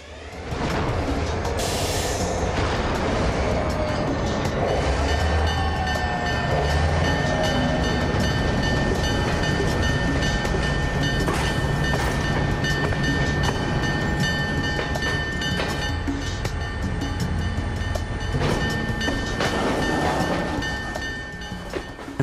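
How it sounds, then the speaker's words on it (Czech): A heavy freight train rumbles and creaks steadily, with metallic squeals and clanking of cars as it slowly pulls away, loud and continuous. "Vlak se zvolna rozjížděl."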